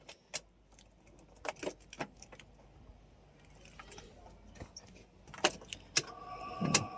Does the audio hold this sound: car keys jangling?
yes